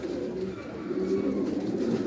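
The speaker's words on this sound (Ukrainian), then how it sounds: "Ось такий голубок." Domestic pigeons in a breeding loft coo steadily, a low continuous murmuring from a bird close by, with no talk over it.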